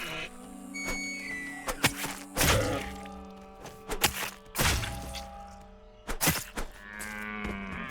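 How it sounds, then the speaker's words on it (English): Elk in the fantasy video game Pantheon: Rise of the Fallen give low, drawn-out moos. Sharp thuds and whacks of combat hits punctuate the moos, and the game mix is fairly loud with no speech. "Who knew that elks would moo?"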